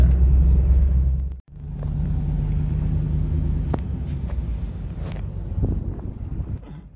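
A GMC car driving on roads in Holland, heard from inside as a steady low engine and road rumble with some wind noise and a brief dropout early on.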